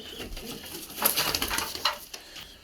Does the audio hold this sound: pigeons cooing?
yes